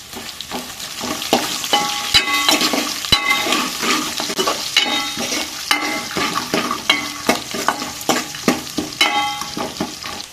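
Curry leaves and chopped onion fry in hot oil as a tempering for red masoor dal, a loud crackling sizzle with repeated scraping and clanking of a spoon stirring in the pan.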